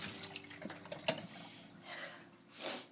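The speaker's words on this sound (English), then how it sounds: "Let me just wash my hand" Tap water runs in a kitchen sink while hands are washed during meal prep, a soft broadband hiss that swells and fades, with a sharp clack near the middle and a louder gush at the end.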